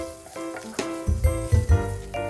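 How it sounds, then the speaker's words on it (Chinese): Shrimp frying in butter in a pan, a steady crackling sizzle with a few louder bursts of spatter, close and alone with no talk. "虾仁用黄油煎熟，"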